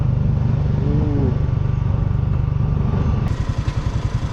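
A motorcycle engine runs steadily up close on a mountain road loop near Baguio, a continuous low rumble with rhythmic pulsing that grows choppier near the end as if slowing to park.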